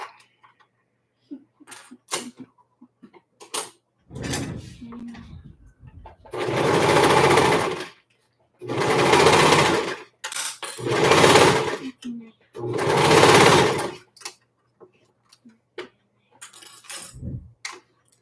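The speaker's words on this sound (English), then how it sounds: "we're just going to stitch along that side where I clipped it" A sewing machine stitching along a clipped side of fabric for a small tee, four separate runs of steady whirring with pauses between them, close by, with some brief handling noises and quiet talk in the gaps.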